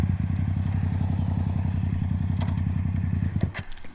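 A motorcycle engine running steadily while riding, a loud, even pulsing throb that holds for several seconds before a clunk near the end, likely a gear shift.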